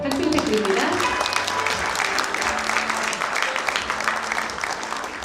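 An audience at an awards ceremony applauds steadily, a dense, sustained wash of clapping that stays strong throughout and tapers slightly at the end.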